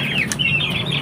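Chickens clucking and chirping softly in a flock, a steady low murmur of fowl with a faint flutter, close by.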